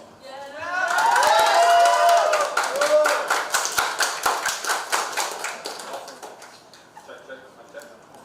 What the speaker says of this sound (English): Keep the applause.